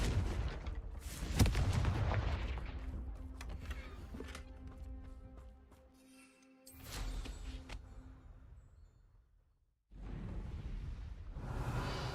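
Confringo blasting spell in the video game Hogwarts Legacy, a heavy booming explosion with crackling debris, followed by a tonal magical hum, then further rumbling blasts after a short lull.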